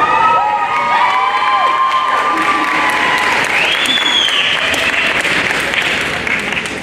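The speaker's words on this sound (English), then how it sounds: "Remember, please hold your applause." A graduation crowd at Charles City High School's 2018 ceremony bursts into loud, sustained applause with cheering and shrill whistles, a dense wash of clapping and shouting that fills the hall throughout.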